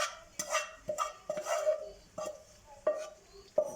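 Washed, uncooked bulgur goes into a frying pan of vegetables and gets stirred, making a series of soft scraping and clinking strokes at an irregular rhythm, close and fairly quiet with no voices.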